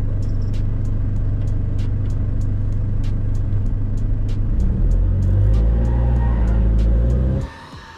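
An all-wheel-drive Toyota Fortuner diesel launches at a drag race, a loud close roar with a deep rumble that builds and rises in pitch before cutting off sharply at the end, over rapid clicking noises.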